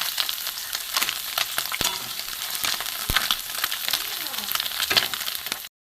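Small mourola and puti fish frying crisp in oil in a kadai, giving a dense, close crackling sizzle with scattered sharp pops and clicks that cuts off abruptly near the end.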